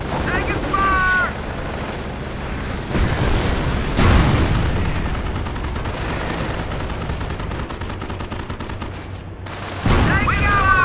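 Gunfire and explosions in the Company of Heroes strategy game, a dense wartime battle with shots and booms under continuous combat noise and game voice lines calling out.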